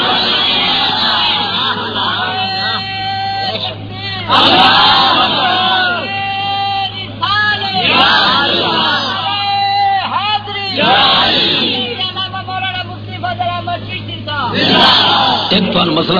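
A crowd at a religious gathering chants slogans in honour of Mola Ali, loud, massed voices rising in repeated surging bursts with short pauses between each call.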